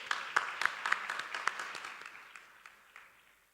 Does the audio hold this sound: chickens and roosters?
no